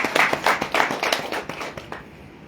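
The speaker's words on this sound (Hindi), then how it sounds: "तेजस भाई के लिए जोरदार तालियां।" A short burst of hand clapping from a presentation audience for Tejas bhai at a business plan meeting, with distinct claps that quickly thin out and fade into quiet.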